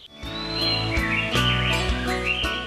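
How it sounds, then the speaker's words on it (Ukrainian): A canary sings a bright, warbling run of trills and whistles, set against steady background music. "почути чарівний пташиний спів у себе вдома"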